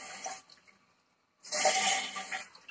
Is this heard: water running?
yes